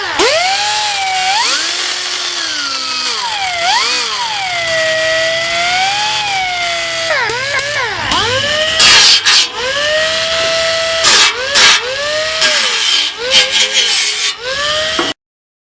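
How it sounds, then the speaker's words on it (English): A power tool smooths sharp metal corners with a loud, close, whining buzz that rises and falls in pitch as it bears on the edges, with harsh grinding bursts and brief pauses toward the end. "I really need to go around and smooth the corners on these real quick"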